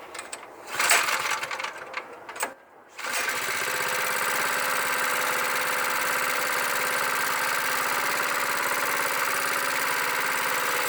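A cheap plate compactor engine starts up and then idles without compacting, settling into a loud, steady mechanical drone after a few brief sputters and bangs.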